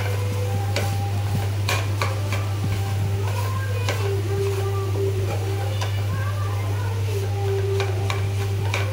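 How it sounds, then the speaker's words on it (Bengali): Minced meat (kima) tossed and fried in a pan, with a steady sizzle and scattered scraping stir clicks over a constant low hum; a voice talks faintly underneath. "এটাকে ভালো করে টস করে ভালো করে ফ্রাই করে"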